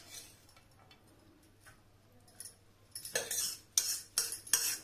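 Fried spinach is spooned from a pan into a serving bowl: a quiet stretch with faint taps, then a run of bright metallic clinks and scrapes of the serving spoon, close up.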